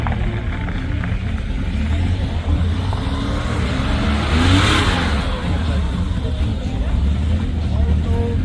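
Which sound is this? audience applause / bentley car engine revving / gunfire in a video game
bentley car engine revving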